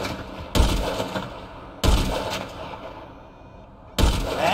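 Three heavy gunshots boom out in GTA 5 gameplay, each a sharp loud blast spaced about a second and a half to two seconds apart, with a rumbling tail carrying between them and no voices.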